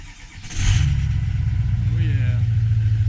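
A 2004 Ford F-250 with a 6.0 turbo diesel cold-starts. After a brief crank it catches, settling into a loud, steady, clattering idle rumble close by, with a faint voice briefly over it.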